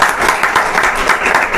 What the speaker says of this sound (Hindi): तालियां एक बार इसके लिए।